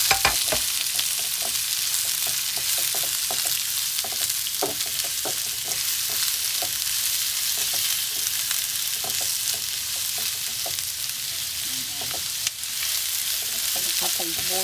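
Onions frying in a pan for kappa (tapioca) biryani, with a steady close sizzle and repeated clicks and scrapes of a stirring utensil against the pan.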